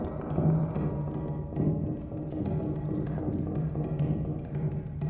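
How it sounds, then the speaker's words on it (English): Video game cave collapsing in a blocky survival game, a dense continuous rumble of crumbling rock with scattered cracking and clattering bursts, fairly loud and steady throughout with no talking. "Please don't tell me that the cave is caving in."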